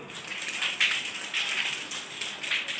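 A rain clap made by tapping two fingers against the palm to imitate rain: a soft, continuous patter of many light taps, fairly quiet and steady, swelling slightly in places.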